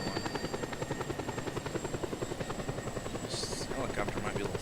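A helicopter in the video game Just Cause 2, its rotor chopping in a fast steady rhythm close by, with a voice briefly talking over it.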